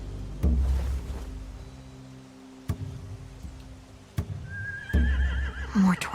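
A horse in a video game neighs in a rising whinny near the end, after several sharp clip-clop thuds and knocks over a quiet, droning background.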